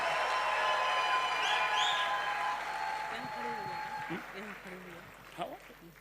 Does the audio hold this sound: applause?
yes